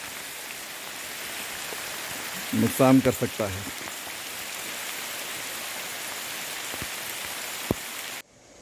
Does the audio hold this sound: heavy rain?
yes